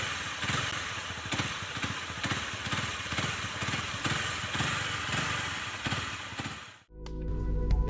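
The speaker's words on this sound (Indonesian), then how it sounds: "ketika mesin dihidupkan akan ada suara hentakan seperti besi beradu" A single-cylinder 250cc Honda CBR250R motorcycle engine runs at a steady, rhythmic idle with distinct repeating pulses and a metallic knocking, then cuts off abruptly near the end.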